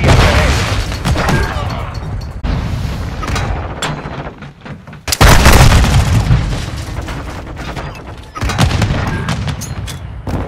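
A bomb charge in a search-and-destroy match of Call of Duty: Modern Warfare II detonates in heavy, booming bursts among sharp gunfire cracks, loud and close, with several big blasts spread across the stretch.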